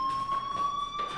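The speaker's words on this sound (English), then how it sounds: "Hey, do you hear that fire alarm?" School fire alarm in the video game Life is Strange rings as a steady, piercing electronic tone that sounds continuously through the short moment, fairly loud, with no talking over it.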